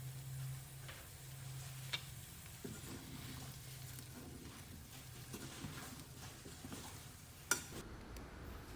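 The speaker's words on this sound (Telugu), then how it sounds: "ఇప్పుడు ఇందులో పన్నీర్ ముక్కలు వేసి బాగా కలపాలి." Paneer pieces stirred into a simmering curry in a pan, giving a quiet, steady scraping swirl with a faint sizzle underneath and a couple of sharp utensil clicks.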